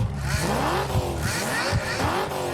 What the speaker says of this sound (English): Pocket Racers, the furiously fast, wickedly fun micro RC cars you can race like a pro